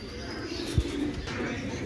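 A Kasuri female pigeon with red eyes gives a single soft coo among nearby pigeons, against a low background murmur.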